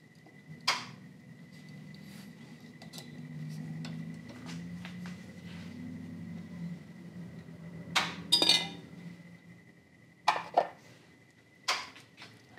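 A metal piece dropped into a pickle bath during depletion gilding, heard as sharp clinks and clatters in bursts against a low steady hum, with no talk.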